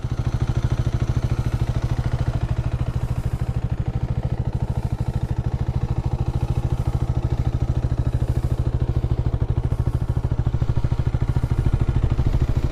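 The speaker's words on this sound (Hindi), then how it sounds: "तो ये आवाज़ जो सुन रहे हैं आप विदाउट एक्सीलेटर आइडल कंडीशन पर रहने वाली है।" Hero Xtreme 250R motorcycle idling in neutral at 1200 rpm with no throttle, a steady, rapid low exhaust pulse with light mechanical clatter, close and unchanging throughout with no talk.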